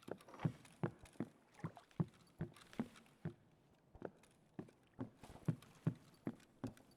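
Rapid footsteps of a player character in the shooter game Escape From Tarkov, a brisk run of sharp, distinct steps in steady rhythm with brief pauses, fairly loud and close, with no talking.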